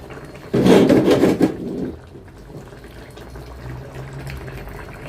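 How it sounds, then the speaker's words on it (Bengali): Spinach paste goes into a spinach and tomato curry simmering in a pan, and a loud burst of bubbling and sizzling lasts about a second and a half. A quieter, low simmer continues afterward. "এখন একটু শাক বাটা দিয়ে আর কিছুক্ষণ একটু জাল দিব"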